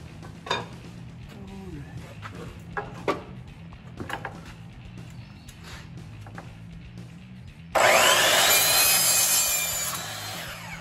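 A hand saw cuts a piece off wood during a knife build. Soft scattered handling noises come first, then a loud continuous rasping stroke fills the final few seconds.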